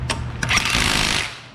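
Impact gun fitted with a torque-limiting stick driving a fastener on a car brake job, a short close burst of rapid hammering starting with a couple of sharp taps, then fading out.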